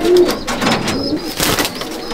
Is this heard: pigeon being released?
yes